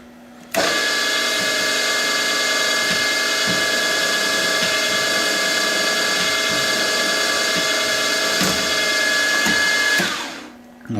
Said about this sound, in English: And I chucked the drill very short in an ER16 chuck. That means I don't have to center drill.